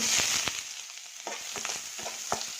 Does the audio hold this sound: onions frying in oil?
yes